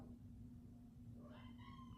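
A cat meows once, faintly, over a steady low hum.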